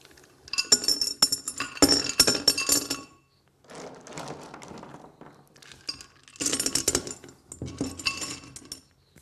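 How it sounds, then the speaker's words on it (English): Stones are dropped into a solid, thick glass vase, giving clusters of sharp clinks and clattering knocks in several bursts with short pauses between them, close and distinct. "I'm going to start off with a very nice, solid, thick glass vase. And we're going to put in some stones."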